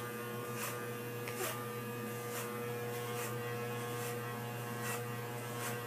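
Hair clippers fitted with a number 3 extended guard buzz steadily during a military-style haircut, a low constant hum with faint periodic rasps as the blades pass through hair, no voices.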